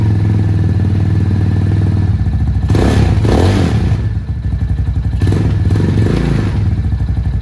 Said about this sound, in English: Just let the bike rev up, not high, but warm up.